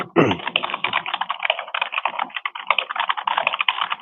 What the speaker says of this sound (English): she be typing all fast